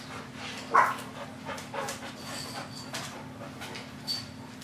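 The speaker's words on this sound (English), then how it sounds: "Oh no, why are they barking?" Small dogs bark indoors: one sharp, close yip stands out early, followed by a few fainter scattered barks and yelps over a low steady hum.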